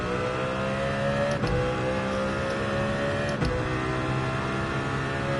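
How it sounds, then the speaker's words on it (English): In Gran Turismo 7, a car engine drones loudly and steadily at high revs, holding a near-constant pitch with two brief shifts or blips breaking the sustained tone. "let's rev it out"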